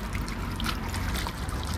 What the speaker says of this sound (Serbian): svuda imaju ovakve fontane da možete pijete vode